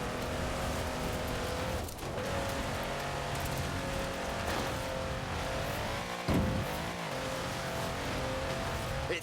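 A 6x6 off-road truck built for the Australian Army, with its speed limiter removed, drives hard in Forza Horizon 4, giving a loud, continuous engine roar with steady road and tyre noise and no talking.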